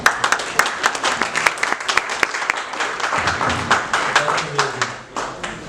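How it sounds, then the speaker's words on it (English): Scattered hand claps ring out over a noisy room, a loose patter of applause with voices murmuring underneath, thinning toward the end. "let's have a round of applause for all of us"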